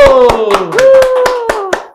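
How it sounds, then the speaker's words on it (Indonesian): Hands clap in a brisk, even rhythm, about eight claps in two seconds, to welcome a makeup artist's demo. The claps sound close and loud over a sustained vocal tone. "Kasih tepuk tangan dulu."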